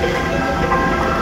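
KA Siliwangi passenger train at Cipatat station, a steady close rumble of wheels and engine over the rails, running loud and continuous with no voices.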